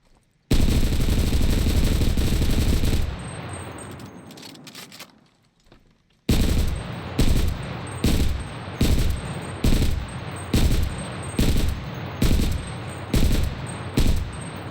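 Scoped sniper rifle in a World War era shooter game firing: a long sustained burst, a pause, then a steady run of about ten evenly spaced loud shots with sharp cracks.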